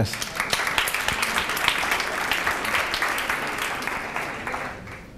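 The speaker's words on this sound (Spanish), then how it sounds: "Un aplauso para Joan, por favor" Audience applause at the OuiShare Fest Barcelona conference closing session, steady dense clapping from a seated crowd that holds for about five seconds before easing off slightly.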